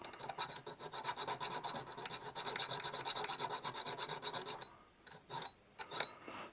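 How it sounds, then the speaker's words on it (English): A jeweler's file rasps burrs flat on the inside of a woodturned Klein bottle piece, a close, quiet run of quick back-and-forth strokes that breaks into a few scattered scrapes near the end. "just to get the burrs that have risen up on that inside there, and just get that flat. A jeweler's file."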